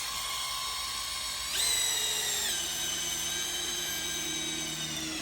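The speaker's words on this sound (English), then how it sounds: "You heard the drill change" A power drill priming the oil system of a Cummins engine whines continuously at high speed, its pitch abruptly jumping higher partway through and then holding steady.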